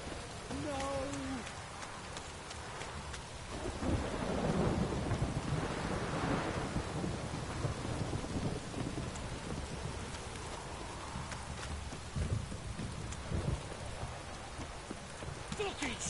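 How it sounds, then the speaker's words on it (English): Heavy downpour with rolling thunder in The Witcher 3 video game, a steady dense wash of rain with deep rumbles swelling midway, plus a brief vocal sound near the start. "This downpour's a bastard in it."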